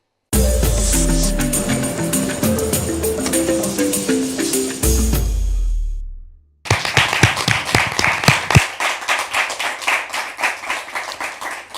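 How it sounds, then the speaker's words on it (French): A studio audience applauds at the opening of a French-language Christian talk show; the first half is a loud musical jingle, then after a short gap a brisk, fairly close run of individual hand claps follows. "C'est par ces applaudissements nourris que nous vous souhaitons la bienvenue."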